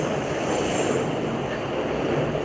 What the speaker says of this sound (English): What train line is that?